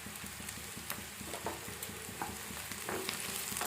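Chopped onions and a couple of green chilies sizzle and fry steadily in a pan for a kaju curry masala, with occasional stirring clinks and scrapes over the constant close hiss, and no talking.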